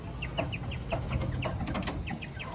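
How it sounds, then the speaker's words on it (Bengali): Three hens and a young rooster about a month old cluck in a rooftop coop, short repeated calls spaced through a steady murmur, close and moderately loud. "সরি তিনটা মুরগি একটা মোরগ"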